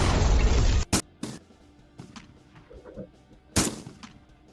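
A loud blast of noise opens, followed by two sharp gunshot cracks about three seconds apart, with quiet clicks between.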